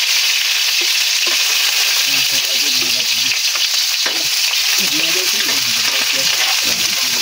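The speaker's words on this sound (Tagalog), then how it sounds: "At ilalagay ko na itong ating sibuyas." Onion and garlic frying in hot oil in a pan, a loud continuous sizzle with occasional stirring scrapes and clicks, close up with no voices.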